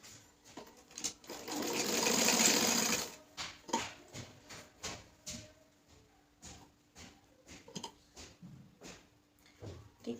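A sewing machine runs a straight seam through fabric for a girl's party frock, one steady burst of stitching near the start, then scattered handling taps and clicks of cloth and machine for the rest.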